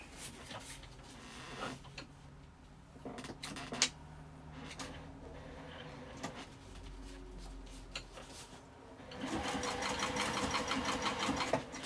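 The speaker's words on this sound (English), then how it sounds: "I'm just going to top stitch along that edge" A sewing machine top stitches with a lengthened stitch along the edge of an apothecary tote bag. Its steady mechanical hum and fast needle rattle run through the clip, with occasional handling knocks and a louder run near the end.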